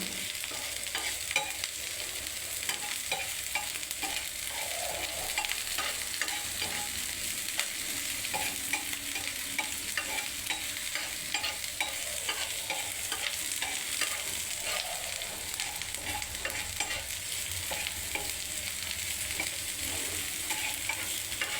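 Onion and capsicum sizzle steadily in hot oil in a pan for chicken rolls, a constant bright crackle with occasional stirring scrapes and no talking.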